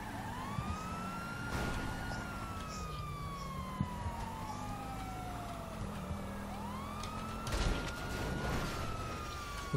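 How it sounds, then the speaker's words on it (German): Wailing ambulance siren in Grand Theft Auto V sweeps up and down repeatedly over a low engine rumble, with a few sharp knocks and thumps in the background. "Ich hab's auch gehört, Krankenwagen, oder?"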